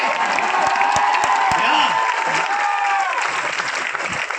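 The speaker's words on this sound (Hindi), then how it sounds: "रोज की इनकम 36 लाख हुई जिससे तुम ताली बजाते हो" Steady audience applause fills a crowded hall at a leadership talk, close and continuous, with a voice speaking over it throughout.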